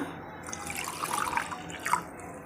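Water is poured from a mixer jar into a simmering peanut curry (shengdana amti) seasoned with ground peanut paste and green chili; a soft, steady splash and trickle stays close and fairly quiet for a couple of seconds, with no voices.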